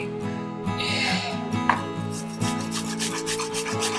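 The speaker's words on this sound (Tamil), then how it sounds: "நம்ம வந்து வாழைக்காவை வந்து துருவிக்கலாம்" Raw plantain grated by hand in a home kitchen: steady rasping strokes, close and fairly loud, repeating in an uneven rhythm with a brief sharp scrape partway through.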